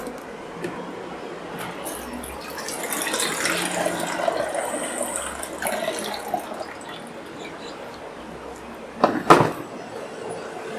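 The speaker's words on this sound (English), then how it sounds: "I will pour out the developer and then quickly pour in the water bath, which acts as the stop bath." Liquid sloshes and pours as film developer is emptied from a tray and a water stop bath is poured in for a large format negative, a long wash of trickling water ending in a brief louder splash.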